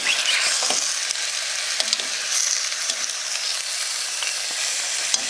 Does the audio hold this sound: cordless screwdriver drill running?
no